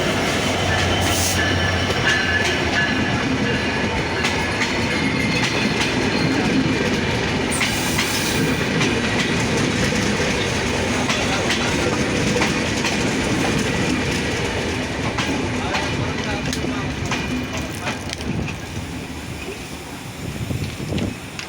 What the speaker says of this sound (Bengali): ডাউন তিতুমির এক্সপ্রেস এবং আপ নীলসাগর এক্সপ্রেস দুটি ট্রেন কোর্সিং সম্পন্ন করলো নীলফামারিতে